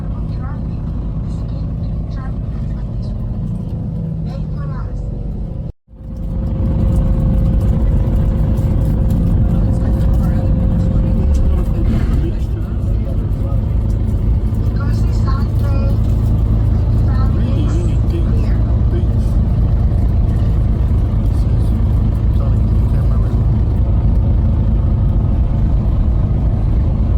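Heavy road traffic rumbles through a Lima, Peru street, with dense, continuous engine noise from cars and buses, close and loud, while people talk over it after a brief dropout.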